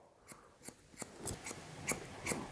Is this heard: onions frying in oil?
no